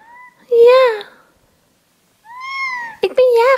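A house cat gives several loud, close meows in two bursts separated by a quiet pause, with a brief human voice near the end.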